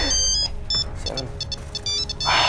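A phone rings indoors with repeated bright electronic beeps and short tonal bursts, close and fairly loud, and no one speaks over it.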